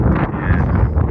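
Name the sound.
wind blowing on the microphone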